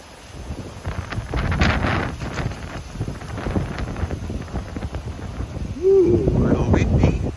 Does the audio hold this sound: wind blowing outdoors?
yes